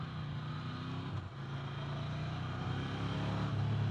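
A 2021 Ducati Scrambler Nightshift motorcycle being ridden, its steady engine drone loud and continuous throughout with a brief dip partway, a low rumble under wind noise.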